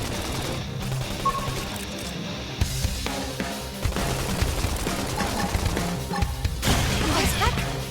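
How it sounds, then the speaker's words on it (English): Rapid gunfire bursts and crashing impacts from the video game Xenoblade Chronicles X, dense and continuous over a busy mix of game music and effects, with talk alongside. "Topple them with gunfire."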